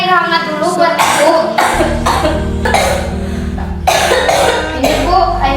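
A woman playing a sick mother in a school Indonesian-language drama coughs in a series of harsh, rapid bursts, close and loud, over steady background music.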